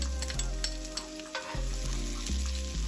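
Garlic and scallion frying in oil in a pan, a close, bright sizzle with a few stirring scrapes, steady and loud with no voices.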